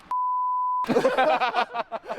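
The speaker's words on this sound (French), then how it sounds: "Là il y aura le bip dans la vidéo." A steady, pure censor bleep tone holds for under a second, then cuts straight into lively speech.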